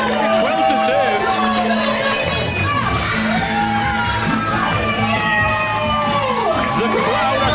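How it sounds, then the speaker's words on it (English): A wrestling crowd cheers loudly and continuously after a championship win at an indoor event, with yells, whoops and shouting voices all blending into a dense, roaring wall of noise. "The crowd are going wild."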